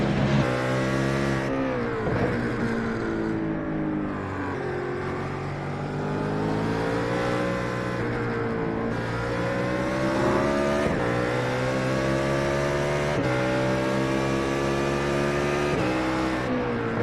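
BMW GT3 race car in the iRacing sim, its engine droning loud and continuous as revs rise and fall through gear changes over a long stretch.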